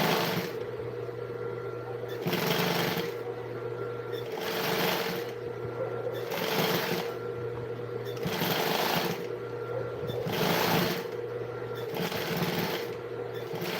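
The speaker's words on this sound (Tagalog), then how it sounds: "nag-enjoy yung mga mumu ko sa aking pananahi, Edbon." A sewing machine stitches in steady bursts with short pauses between runs, a close, continuous mechanical whir repeating roughly every second or two, with a faint voice in the background.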